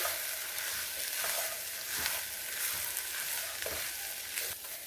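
Split peas and vegetables stirred in a soup pot, giving a continuous hissing sizzle with repeated scraping and clinking strokes over about five seconds, close and with no voices.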